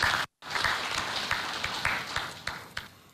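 Audience applause at the National Consumption Council with Macky Sall, a hall full of people clapping steadily after a brief cut, with a few sharper claps standing out, and no voices over it.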